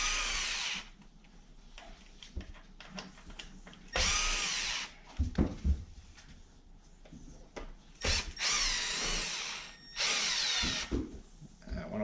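A power driver fitted with a 2 mm tip backs screws out of an Arrma 3s BLX RC truck, several separate high whirring bursts with quiet handling clicks and fumbling between them, close up.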